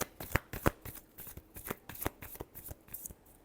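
Tarot cards being shuffled by hand, a close run of rapid papery riffles and slaps with uneven rhythm, several sharper snaps standing out, no voices over it.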